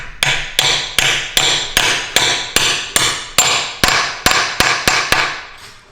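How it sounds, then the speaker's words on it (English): Repeated sharp metallic taps, about fourteen in an even rhythm, each ringing briefly before the next, close and clear with no talking, as a spring-loaded cap is tapped into place on a BMW ZF five-speed manual transmission. "push against the spring and then tap it in place"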